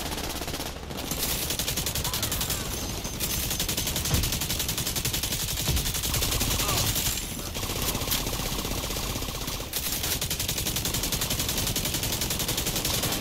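An automatic turret in Tom Clancy's The Division 2 fires nonstop bursts alongside other gunfire, a dense, harsh, continuous rattle that fills the whole stretch with only brief dips.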